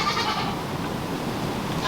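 A goat bleats in a barn setting, a drawn-out wavering call heard through steady ambient noise at moderate loudness.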